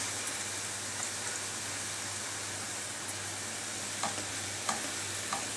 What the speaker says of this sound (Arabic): هنضيف فلفل احمر واخضر والوان.